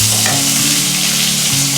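Onion for ragi adai sizzles and fries steadily in a pan, a loud continuous hiss with a low rumbling hum beneath, close by and without talk.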